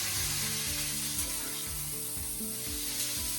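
Smash burger patties sizzle loudly in a hot pan, a dense constant hiss and crackle with a metallic scraping or clanking rhythm repeating underneath, close up with no talking.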